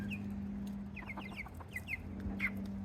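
Older hens and newly added chicks in a backyard flock near a small coop enclosure cluck softly and repeatedly, with brief high chick peeps mixed in over a steady low hum, fairly close.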